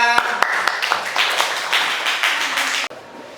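Classroom audience claps hands in a short, scattered burst that tapers off after a few seconds, loud and close with no talking.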